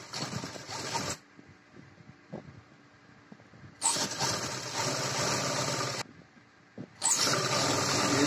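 A sewing machine stitches a seam at the slit of a women's kurti in three loud, close bursts of whirring, separated by quiet pauses.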